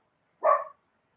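A single short dog bark rings out from outside, fairly distant and alone against silence, lasting only a fraction of a second.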